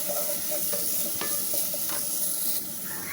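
Beetroot and grated coconut sauté in a pan for chutney, a constant close sizzle with several sharp stirring scrapes spaced through it, no voices present.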